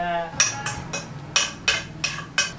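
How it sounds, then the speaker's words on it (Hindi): A metal spoon clinks against a cup or pan while tea is made in a home kitchen, with about seven sharp, evenly spaced taps heard close up. "ये इतना चम्मच की आवाज क्यों आ रही है अगर चाय बनानी है तो"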